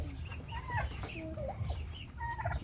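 A broad-breasted white turkey gobbles among other poultry clucking close by, a dense mix of warbling and rattling fowl calls over a steady low background rumble.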